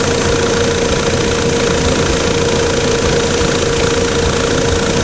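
GM Vectra 2.0L 8V engine idling up close, a loud, steady, even drone with constant mechanical vibration and no change in speed throughout.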